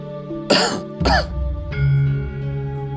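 Two sharp, close coughs in quick succession, followed by a low sustained hum.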